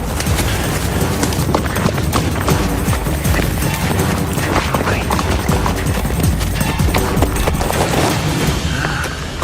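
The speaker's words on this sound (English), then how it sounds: "Is that a horse?" Horse hooves clip-clop steadily on rough ground outdoors, a fast, continuous patter of loud hoofbeats running through the whole stretch without pause, as if a horse is moving quickly nearby.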